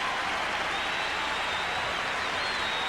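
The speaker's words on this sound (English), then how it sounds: "How often do you see John McEnroe ask for a little help from the crowd and receive it" A tennis crowd at the 1987 Dallas final between McEnroe and Mecir applauds, a steady, dense wash of clapping from a large arena audience, heard alone.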